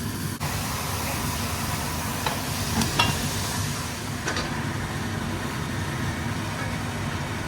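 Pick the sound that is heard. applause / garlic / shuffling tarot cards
garlic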